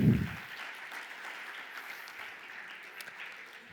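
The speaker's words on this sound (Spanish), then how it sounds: "Un aplauso para Cristian." Steady applause from an audience, a continuous patter of clapping that holds at an even level throughout.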